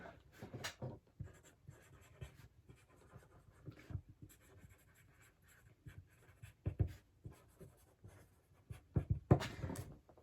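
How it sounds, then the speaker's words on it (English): A pen writes a handwritten note on a card, close scratchy strokes in irregular bursts with brief pauses, quiet and alone. "I'm going to write out a card."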